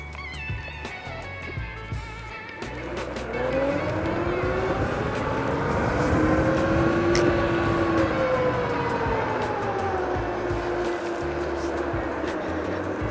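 A Beast Board Mini direct drive electric skateboard accelerates hard in Speed Mode 4, its motor whine rising in pitch and then levelling off over steady road rumble, close and loud.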